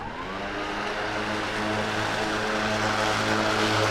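Petrol lawn mower engine running steadily at close range, a sustained droning hum with a faint rise in pitch at the start, no talking over it.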